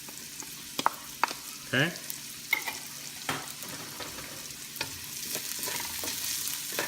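Garlic and onions fry in a pan for a catfish kaldereta, a steady sizzle under scattered clicks and scrapes of stirring, with a brief word spoken near the start.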